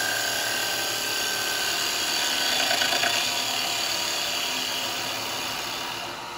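A lathe gouge cuts wet eucalyptus on a woodturning lathe, giving a continuous loud whining hiss with a steady tonal ring, close and uninterrupted, with no talking.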